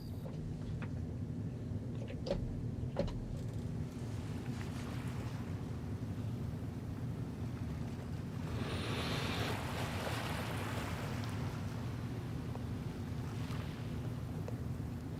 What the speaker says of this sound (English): For example, here's the ocean.